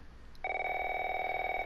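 A bedside telephone in The Last of Us Remastered starts ringing partway through, a steady, bright electronic ring that holds continuously at a clear, moderate level with no voices over it.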